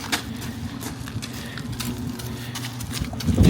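Cheetah, cow number 25, walks back into a barn, her hooves clopping in an irregular rhythm on a hard floor over steady barn machinery hum.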